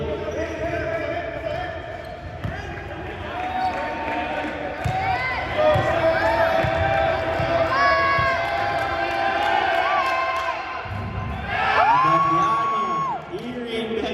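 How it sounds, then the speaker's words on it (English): An indoor crowd cheers and whoops during a late-game free throw at a basketball game, a loud, sustained roar with shouts rising and falling, while a commentator talks over it. "Cheers from the crowd."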